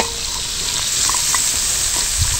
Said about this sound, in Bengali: এবার এগুলোকে একটু ভাজবো